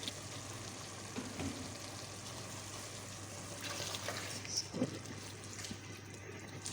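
Turnips and meat frying in a pot for Pakistani shaljam gosht, with a low, continuous sizzle and bubbling, occasional soft spoon knocks, quiet and steady, with no talking.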